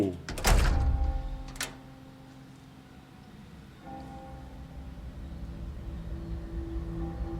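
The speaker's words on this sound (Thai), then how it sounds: "ปิดประตู" Heavy door slamming shut in the Resident Evil 4 remake demo, a loud thudding impact followed by a second, smaller knock, then a quiet ambient hum with rain-like patter.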